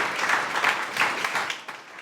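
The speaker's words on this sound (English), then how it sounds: "So give them a big round of applause." A crowd at a graduation ceremony applauds warmly, a dense wash of clapping that holds steady for a couple of seconds before starting to thin out.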